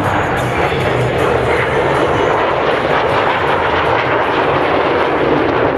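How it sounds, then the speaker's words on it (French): A Rafale fighter jet roars loudly and continuously at an air show at La Ferté-Alais, a dense broadband rush of engine noise filling the air without letup. "Rafale, c'est l'avion du futur, même du présent."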